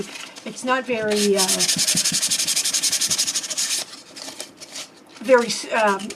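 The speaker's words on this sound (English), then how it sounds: "I had some sandpaper, here it is. And this is only a 400 grit." Dry rhythmic rubbing of fine 400-grit sandpaper, steady back-and-forth strokes for a few seconds, with a voice talking briefly before and after.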